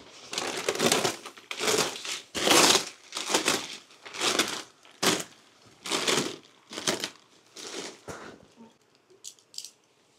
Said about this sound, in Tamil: இந்த பிளேடை வச்சு நம்ம இப்போ இதை ஓப்பன் பண்ணிடலாம்.